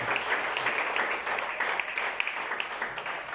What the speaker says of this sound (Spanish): Dale un aplauso a nuestro Dios en esta mañana